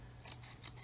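Scissors cut out decals for a Roden 1/144 C-141 Starlifter model kit, giving two quick, close snips in under a second over a low steady hum.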